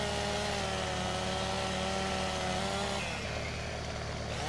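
A chainsaw cutting up trees while clearing land in the video game Farming Simulator 17, a steady droning engine whine that shifts pitch partway through, loud and continuous with no voices.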